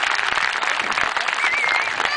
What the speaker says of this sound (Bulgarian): хайде да ръкопляскаме на нашия Господ Исус